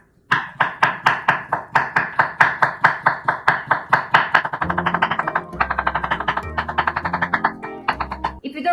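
A knife thinly slices cucumber on a cutting board, a quick run of crisp, evenly spaced chops close up that later turns faster and softer, with a voice murmuring underneath.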